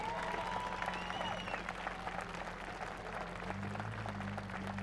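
A crowd at a drifting competition podium announcement applauds and cheers, a steady wash of clapping at moderate distance with faint voices mixed in.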